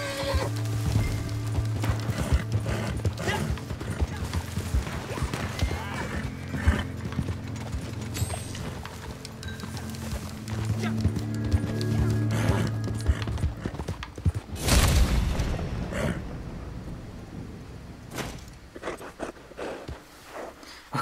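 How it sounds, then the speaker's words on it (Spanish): Horse hooves clip-clopping steadily with occasional whinnies in Red Dead Redemption 2 Online, a loud continuous gallop under game music and effects, with a burst of louder action near the middle. "Victoria, entrego el caballo"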